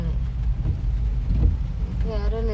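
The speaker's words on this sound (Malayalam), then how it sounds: "നല്ല മഴയാണ്." Heavy rain pours steadily in Queenstown, New Zealand, a dense broadband wash close to the microphone with low rumbling underneath and a brief tonal whine near the end.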